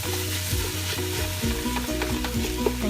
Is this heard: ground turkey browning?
yes